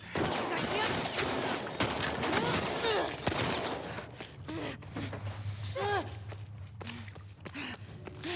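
Gunfire in The Last of Us Part II, a loud, busy stretch of shots and impacts mixed with footsteps and game noise, with a voice talking over it.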